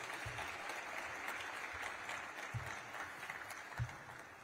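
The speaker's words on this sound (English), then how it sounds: "can we give another round of applause to Representative Carson and Secretary Buttigieg" A faint, distant crowd applauds steadily for Representative Carson and Secretary Buttigieg at a 2022 transportation braintrust panel, a soft, continuous patter of many hands with a few low thumps.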